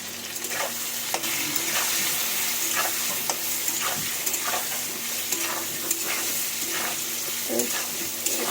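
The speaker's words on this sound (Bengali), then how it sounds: "আলুগুলো একটু নালন চালন করে নিই সুন্দর করে" Potatoes sizzle and fry in hot oil in a pan while a utensil stirs them, giving a steady crackling hiss punctuated by repeated scraping and clinking strokes, close and fairly even throughout.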